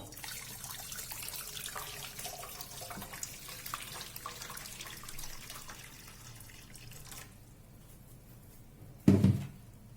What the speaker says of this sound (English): I have a pan over here to which I'm adding some hot water